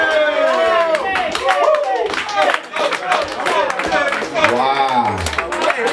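Crowd clapping after a rap performance, scattered hand claps mixed with loud cheering and voices, with someone speaking over the noise near the end.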